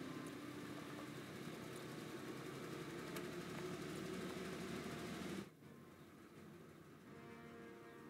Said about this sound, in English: Engine warmed up and ready